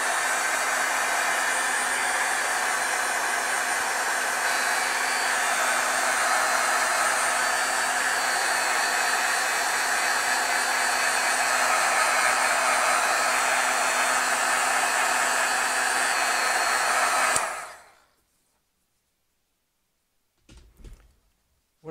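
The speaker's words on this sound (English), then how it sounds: "Okay, let's heat set this." A heat tool runs steadily and loudly for about seventeen seconds, heat-setting Brilliance ink stamped onto vellum, then cuts off abruptly, leaving near silence broken only by a few faint, brief sounds.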